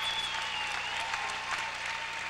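Applause from the crowd at the 1994 World Figure Skating Championships ladies' event, dense and steady clapping filling the whole stretch with no talk over it.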